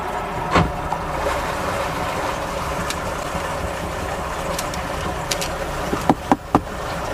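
A Starcraft boat's engine idles in forward gear, a steady low rumble filling the whole stretch, with a few sharp clunks and knocks near the end.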